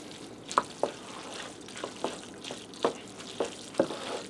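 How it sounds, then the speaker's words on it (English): Shredded sharp cheddar being stirred into hamburger casserole pasta produces soft, sticky scraping strokes, about seven distinct spoon pushes in a quiet, close, unhurried rhythm without speech. "I'm going to stir that around"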